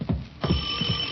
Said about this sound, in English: Doorbell sounds like.